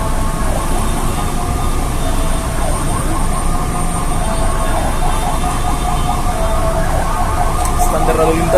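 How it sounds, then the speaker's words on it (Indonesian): An ambulance siren wails in city traffic, its rising and falling tone repeating through loud road and engine noise, heard from fairly close. "Akan memberikan lajur buat lajunya ambulans Siloam."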